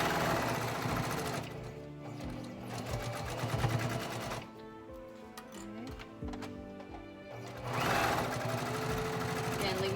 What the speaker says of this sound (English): It raises and lowers that foot, and then I'm just gonna stitch down.